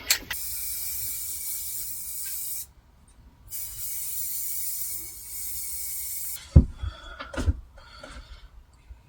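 A spray can of clear gloss lacquer hisses outdoors in two sustained bursts of several seconds each, close and steady, followed by a few clattering knocks and handling noises.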